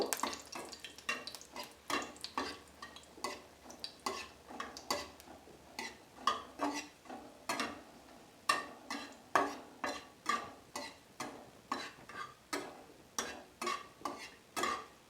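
A spatula scrapes and taps a pan in a quick, steady rhythm over a faint sizzle of dried red chillies frying in oil, with no voices.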